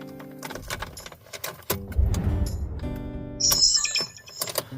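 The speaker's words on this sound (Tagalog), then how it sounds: "Ayaw mag-start ng ating sasakyan." A car engine struggling and failing to start on a winter day: a short burst of rough cranking noise, surrounded by bright electronic dashboard chimes and key jingles.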